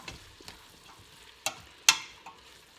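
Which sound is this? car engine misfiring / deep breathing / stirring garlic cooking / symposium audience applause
stirring garlic cooking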